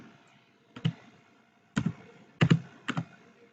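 Keys clatter on a computer keyboard as HTML font size code is typed, a few quick clustered clicks in short bursts with pauses between, close and fairly quiet, with no talking.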